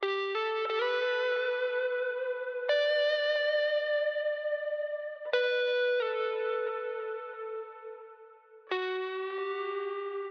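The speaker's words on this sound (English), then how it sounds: "So this guitar, still distorted using both the overdrive and distortion, not using the doubler here." A soloed electric guitar in an indie acoustic production, heavily distorted with both overdrive and distortion, plays sustained ringing notes that shift pitch every few seconds with sharp attacks, alone and clear.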